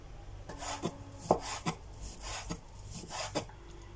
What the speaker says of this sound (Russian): Говядину сначала нарезаю на пластинки и затем уже соломкой.